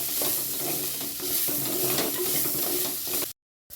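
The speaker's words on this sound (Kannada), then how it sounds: "ಈರುಳ್ಳಿ ಸಹ ಕೆಂಪು ಬರೋ ತನಕ ಹುರಿಬೇಕು." Onions fry in a pan for a fish curry, a loud, close, continuous sizzle with stirring scrapes, cutting to silence near the end.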